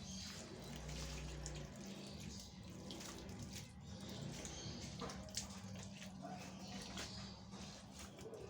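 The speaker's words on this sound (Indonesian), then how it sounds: "Kita siram air kan." Water poured onto soil in a potted fern seedling, a steady running trickle with gentle splashing that continues throughout at a low level.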